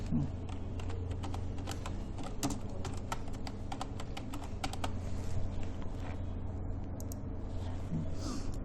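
Steady typing on a computer keyboard while writing web content, with a continuous run of quick, close keystrokes over a constant low background hum and no speech.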